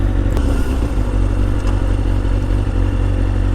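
A motorcycle rides through jumbled traffic, its engine a steady, close drone with light clatter and no voices over it.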